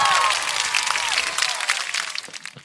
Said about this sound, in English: go ahead and give yourself a round of applause